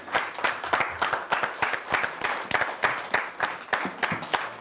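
At a charity event for an asthma cause at the London Hilton, Holland Park, an audience claps in a loud, rhythmic, nearly unison beat, each sharp clap distinct and close.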